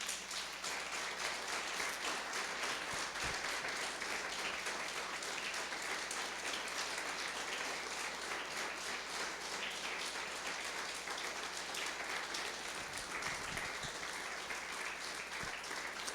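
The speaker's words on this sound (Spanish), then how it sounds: "¿Le podemos dar un aplauso al Señor?" A church congregation applauds together in a sustained, steady burst of clapping, dense and even throughout, with no talk over it.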